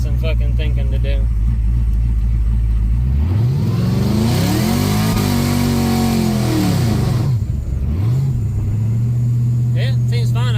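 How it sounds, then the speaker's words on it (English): A supercharged LS-swapped Chevrolet C10 truck engine idles with a deep rumble, then revs up sharply and holds high near the rev limiter before dropping back and settling into idle, loud and close. "If it hits the rev limiter and hangs out, we're good."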